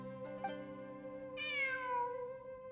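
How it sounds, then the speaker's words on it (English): A cat meows in a video game, one drawn-out, clear meow with a falling pitch, heard over a steady tonal game soundtrack. "I'm not hearing things. It really is a cat."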